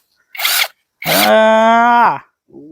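A cordless electric drill whirs in a short burst, then spins longer with a rising whine before winding down, followed by a brief faint buzz.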